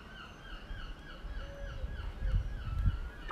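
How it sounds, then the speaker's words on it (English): Seagulls call repeatedly in the distance at Victoria Mews, Regent Street, Whitstable, a series of rising cries over wind-like rumble and low background noise. "Very noisy seagulls in the background"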